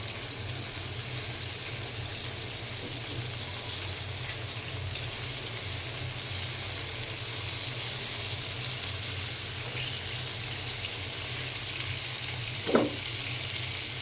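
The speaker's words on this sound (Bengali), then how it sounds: "মাছ ভাজা হয়ে গেছে" Fish fries in hot oil, giving a steady, even sizzling hiss that runs unbroken for about fourteen seconds with no talk.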